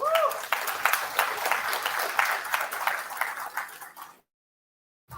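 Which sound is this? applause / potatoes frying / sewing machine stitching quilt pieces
applause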